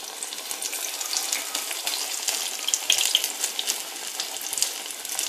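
Onion and potato fritters, spicy badji batter with onion rings, sizzle steadily in hot oil, a continuous close crackle with small spitting pops and no talking.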